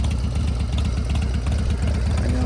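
A Harley Dyna motorcycle with a 2-to-1 Sun exhaust idles close by, a loud, steady, loping low-pitched rumble with an even rhythmic chug throughout.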